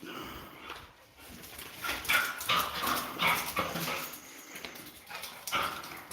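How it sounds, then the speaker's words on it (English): Dogs whimper and give short barks close by, several overlapping yelps and whines rising in bursts over a steady background hiss. "Silly dogs."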